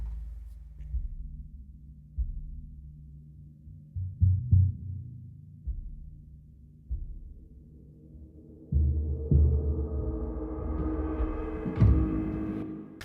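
Music intro opening muffled and bass-heavy, with a high-cut filter slowly rising so brighter tones emerge over a thumping low pulse, growing fuller toward the end.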